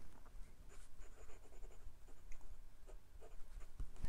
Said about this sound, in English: The nib is very smooth, with just a hint of feedback.